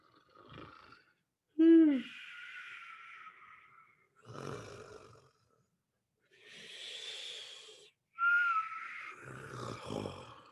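A voice imitates a snore with a whistling squeak, drawn-out breathy snorts and hisses repeated in slow cycles with pauses between.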